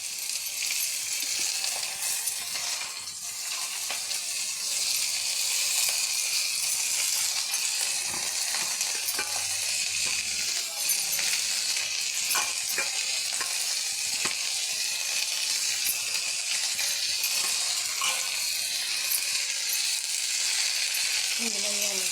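Chopped fenugreek leaves frying in a pan, a steady bright sizzle carried all the way through, with occasional scraping clinks from stirring.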